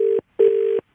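After a phone call is hung up, the handset sounds a loud, steady electronic tone in two pulses, one short and then one longer, with no voices.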